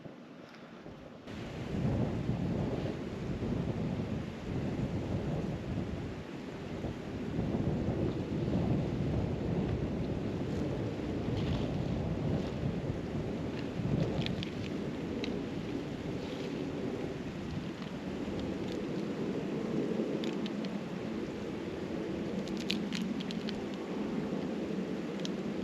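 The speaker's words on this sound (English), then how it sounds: "This is the river I could hear running all night." A river runs on Kinder Scout moorland in winter, giving a continuous broad rush of flowing water with gusts of wind buffeting the microphone, and no voices.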